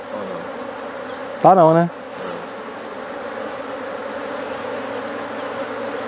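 Dense, steady buzzing of many honeybees around an open hive during colony division, close and continuous throughout, briefly interrupted by a short spoken phrase.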